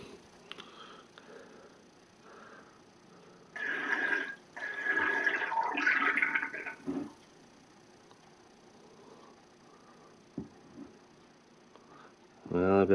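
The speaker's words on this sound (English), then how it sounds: "I've racked a gallon of liquid off of the yeast, and there's what's left behind." Homemade mead being racked off the yeast, liquid trickling and gurgling through a siphon into a gallon jug in bursts, with a brief bubbling slurp near the end.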